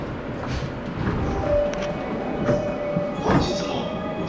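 A JR East commuter train rumbles along with brief squeals and a sustained tone, its clattering noise rising and falling in short bursts while a faint voice is heard.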